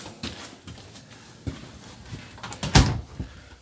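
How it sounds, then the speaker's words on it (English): Sliding bedroom door in a 2021 Bighorn 39MB RV being handled: a few soft knocks and rattles, then one sharp, louder clack near the end, close by with no talking. "your bedroom door slides, and you will want to have it latched for travel"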